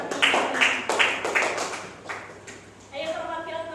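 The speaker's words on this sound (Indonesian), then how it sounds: "tepuk tangan untuk Pak Ida Rahmi" Clapping from a classroom of students in an Indonesian school rises in several bursts, lively and fairly close, then tapers off as a voice begins talking.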